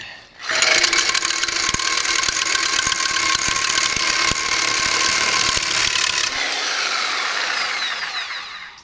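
A reciprocating saw fitted with a wood blade cuts through 3/4 inch steel in one loud continuous run, a harsh rasping metal-on-metal buzz with rapid stroke chatter that eases off near the end.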